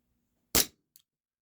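An HFC DarkHawk gas blowback airsoft pistol fires one sharp, loud crack up close, then a faint metallic click as the slide settles, with silence around it.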